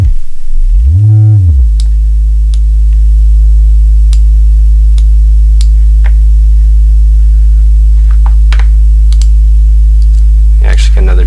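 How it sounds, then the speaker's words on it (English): A steady synthesizer sine wave tone holds loud and unbroken after a brief swell at the start, with a few faint clicks of knobs and patching over it. "Okay, so we got a sine wave here."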